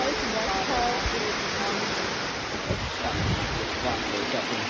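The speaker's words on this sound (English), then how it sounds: "the height of the waterfall is 70 meters" The 70-metre Jermuk waterfall in Armenia roars as a steady, dense rush of falling water, loud and continuous, close by throughout with no break.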